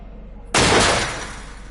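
A single sharp gunshot blast in the video game Until Dawn bursts suddenly after a quiet moment, loud and broadband, then decays with a rumbling tail.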